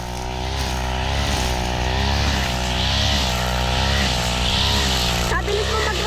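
A grass cutter engine runs continuously in a farm field, a loud steady droning buzz that fills the whole stretch, with a slight rise in revs near the end.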